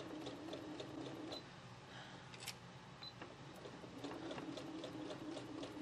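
A sewing machine runs stitch by stitch along a quilt seam, a quiet rapid mechanical whir with faint clicks, slowing and resuming briefly, close by with no talk.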